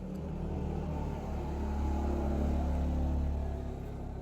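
A motorcycle engine rumbles steadily nearby, a low continuous drone that swells slightly midway and carries on without any voices.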